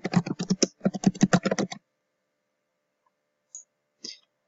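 Rapid keystrokes clatter on a computer keyboard in a quick burst, then silence broken by two isolated key taps.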